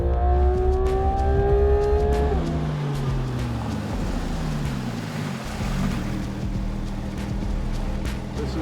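A Porsche 991 GT3 RS engine pulls hard on a race track, a loud, close onboard roar that shifts pitch through gear changes and throttle, then settles into a steady rushing drone.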